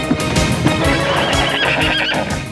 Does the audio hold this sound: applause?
no